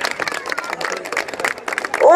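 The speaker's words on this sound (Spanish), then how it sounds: "bien fuerte el aplauso para todos los que están poniendo su granito de arena" A crowd at a community event in San Luis Acatlán, Guerrero, applauds steadily with dense, overlapping claps, loud and close, with faint voices mixed in.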